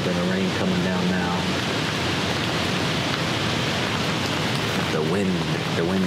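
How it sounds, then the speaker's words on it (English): Rain falls steadily in woods as a constant hiss, with a voice speaking briefly over it at the start and near the end. "we got a little bit of rain coming down now"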